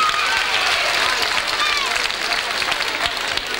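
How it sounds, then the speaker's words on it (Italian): An audience at a stage show in Italy bursts into dense, steady applause that fills the clip, with a voice faintly audible beneath the clapping. "Un bel applauso fatemi perché ne ho bisogno."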